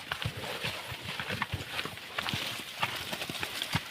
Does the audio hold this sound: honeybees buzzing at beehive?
no